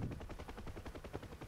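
Rapid machine gun fire in a DCS combat flight sim rescue mission with a UH-1 helicopter, a steady run of quick bursts beneath constant low engine rumble, fairly close and loud with no talk.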